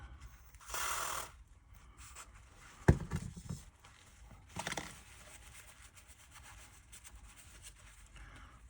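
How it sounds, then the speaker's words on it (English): Motor brushes from a Hornby Tri-ang LMS Coronation model train being cleaned of old residue, with soft, intermittent rubbing and scraping bursts and a few small clicks close by in a quiet room. "I will clean the brushes off. Just get any old residue off of them."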